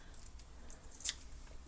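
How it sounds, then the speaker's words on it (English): A single quiet snip of kitchen scissors cutting crisp fresh lettuce for a corn chip salad, a brief sharp click against a faint hushed background. "So, batty scissors worked great for this"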